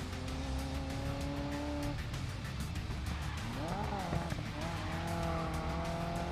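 Race car drifting in the Grid Legends racing game, steady engine roar with long tire squeals and skidding sweeping up and down, while a voice talks over the racing.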